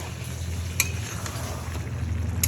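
Meat browning with fried onions for a Bengali kasha curry, a steady low sizzle throughout with a couple of sharp clinks of a utensil against the pan, fairly quiet and with no talking.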